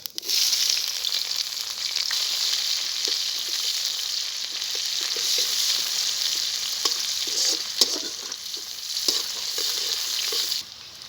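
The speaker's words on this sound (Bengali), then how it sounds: "ফোড়নে দিচ্ছি জিরে, দিয়ে দেবো পেঁয়াজ কুচি," Cumin seeds and chopped onion crackle in hot oil, a steady bright sizzle lasting throughout with a few sharper pops and stirring clicks near the end, then a sudden cutoff.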